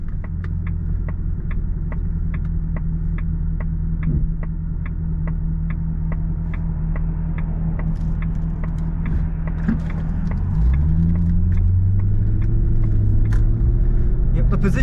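The older 4.2-litre V8 of a Jaguar XK R (X100) drones low and steady from inside the cabin, then swells into a deeper, louder rumble near the end as revs rise.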